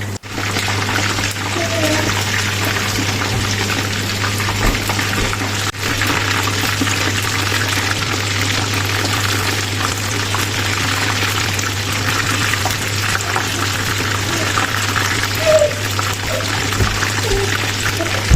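Chicken for KFC-style fried chicken fries in oil, making a dense, constant, close sizzle over a low steady hum without pauses.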